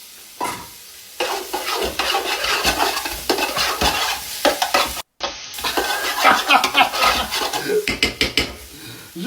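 Onions frying in olive oil in a pan for chorba, sizzling steadily while a utensil scrapes and stirs in repeated strokes, close up, with a brief cut partway through.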